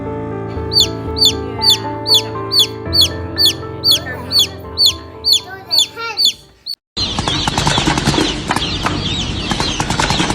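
Baby chickens peep in a regular series of about a dozen short, high, evenly spaced calls over a low droning background, which then cuts to a dense, noisy wash.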